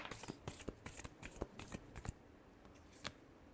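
A deck of tarot cards is shuffled in a run of crisp, quick riffling snaps, close and quiet, bunched in the first two seconds and then thinning to a few scattered flicks.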